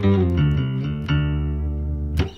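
Bass guitar through a Pog octave pedal with full dry signal and the one-octave-up blended high, giving a few sustained, organ-like synthy notes, loud and close with no talking.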